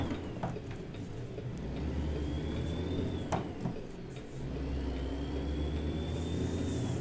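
A truck engine revving and accelerating in the American Truck Simulator game, a low steady rumble with gear changes and a brief dip midway before it climbs again, heard close and alone.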